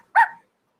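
A puppy with a missing front leg, lifted from a box, gives one short, sharp bark close by, with silence after.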